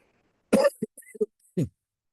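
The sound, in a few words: cough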